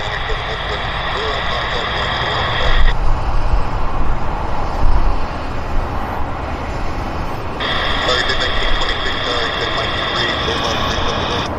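A passenger jet takes off at Vancouver YVR airport, its engines a loud, steady broadband roar that swells slightly midway, heard from nearby with a faint radio tone in the background.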